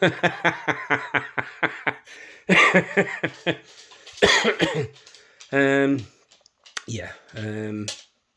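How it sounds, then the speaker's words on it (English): A run of rapid, sharp coughs opens, followed by more coughing bursts and throat noises, with a couple of voiced sounds near the end. "My cough is starting to bother me."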